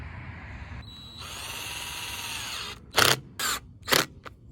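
Power drill driving screws into a plastic pop-up drain outdoors, a rising whine followed by three short sharp bursts of drilling, close and fairly loud.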